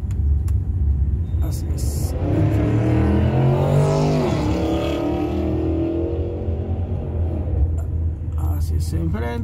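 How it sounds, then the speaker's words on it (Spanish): Heavy highway traffic rumbles continuously while someone walks alongside, with loud passing cars swelling and fading nearby; someone talks over the steady roar. "voy caminando por aquí en la autopista. Hay mucho tráfico"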